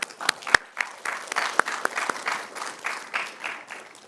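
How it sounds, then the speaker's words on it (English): Scattered audience applause for hackathon judges, a modest crowd clapping unevenly with a few sharp, close claps standing out, no talk over it. "a round of applause for the wonderful judges"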